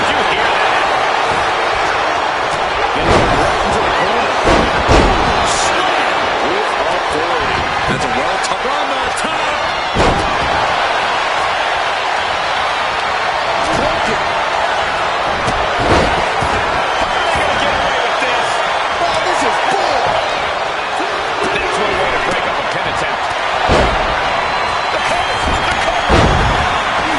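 Body slams on the mat in a wrestling video game hit as sharp, loud thuds scattered through a noisy arena bed of crowd roar, with a commentator talking throughout.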